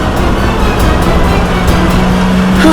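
A driverless car, part of a mysterious-machine case, drives on with a steady roaring engine. A faint high tire squeal cuts through near the end, and the sound stays loud and close throughout.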